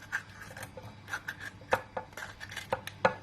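A knife chops peppers on a board while cooking, giving a string of sharp, irregular taps and scrapes, fairly quiet and close, with no talking.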